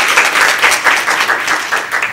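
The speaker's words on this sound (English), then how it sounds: "Can we have a round of applause for them?" A seated audience at a Black History Month read-in celebration claps for the organizers, a fairly loud, steady patter of many hands filling the whole moment without talk over it.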